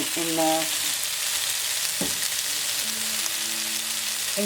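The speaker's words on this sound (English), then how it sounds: "I'm just going to add the garlic." Garlic added to a hot pan for an English spinach kootu, a loud steady sizzle running throughout with a brief utensil knock midway and faint tonal hums in the background.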